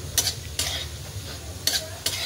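Thin poha chivda with peanuts, roasted gram and coconut is stirred in a kadhai, a soft low sizzle broken by a few scraping, rustling strokes of the spoon close by, with no talk.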